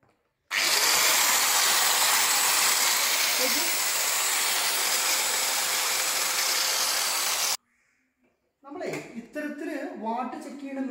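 An electric cutter runs at full power for about seven seconds, a loud steady high-pitched whirring hiss, before cutting off abruptly; afterwards a person talks.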